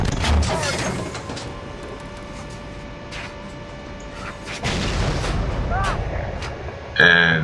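A tank taking a hit in the tank simulator Steel Beasts Pro PE during a platoon engagement: heavy booming impacts and rumbling gunfire amid engine drone, with someone speaking over the action.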